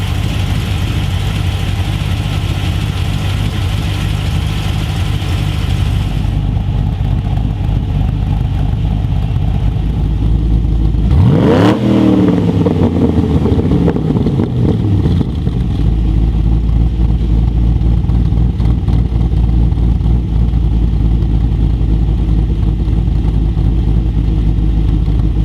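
An LS V8 fitted with a VCM camshaft, in a car with an automatic gearbox, stock stall converter and standard diff gears, idles with a loping, choppy beat. It rises into one sharp rev around the middle, then settles back to the steady idle.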